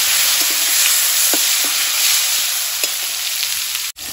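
Three or four chopped tomatoes with salt fry in a pan, giving a steady, loud, close sizzle that runs unbroken throughout with faint stirring ticks and no talking.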